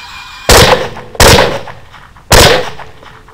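Three sharp, loud rifle or gun shots fired outdoors during a hog hunt, spaced unevenly with echoing decay after each blast, no voices.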